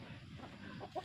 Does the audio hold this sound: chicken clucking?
yes